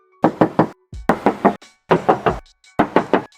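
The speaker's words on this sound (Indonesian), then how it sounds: "Sekarang aku mau coba tes ketok bagian sampingnya." Knuckle knocks on the silver side body panel of a 2021 Toyota Rush S TRD Sportivo SUV, four quick groups of three sharp hollow raps, close and loud, with silence between groups.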